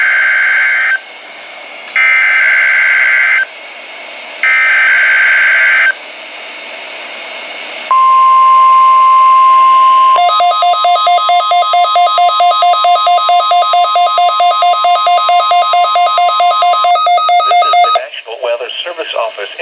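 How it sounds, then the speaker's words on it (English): NOAA Weather Radio warning alarm test from the Portland, Oregon service office: loud alternating two-tone bursts, then a long steady high tone, then a sustained buzzy harmonic tone lasting several seconds before cutting off. "The preceding was a test of NOAA weather radio's warning alarm."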